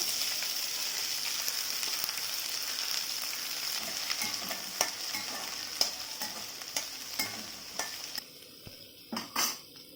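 Chopped green beans sizzle and fry in a pan under a steady hiss, with a spatula scraping and tapping against the metal several times, closer and louder near the end.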